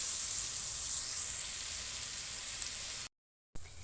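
Vegetable pieces fry uncovered in an open pan, a steady close sizzle and hiss running on with no talk, cut briefly by a short gap near the end before the frying resumes.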